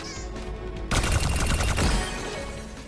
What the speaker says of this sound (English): While Orissa's weapon is being charged up with her new capsule cannon.